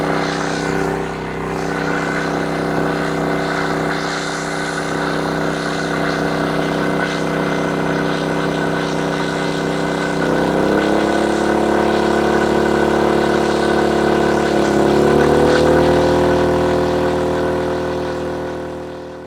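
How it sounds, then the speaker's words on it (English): A Paxurio DK4000 ISA inverter generator running steadily nearby, its mid-pitched engine hum rising in pitch partway through as it takes on load, then easing slightly toward the end. "If you're looking for a lot of generator for a little bit of dough, the Paxurio DK4000 ISA"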